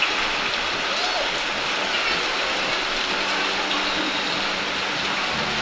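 Floodwater pours into a house, making a steady, loud broadband rush that runs unbroken throughout with no clear pauses.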